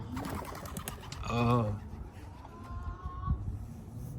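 Soft racing pigeon cooing, a low throaty warble, under someone talking, with rustling and background noise around it.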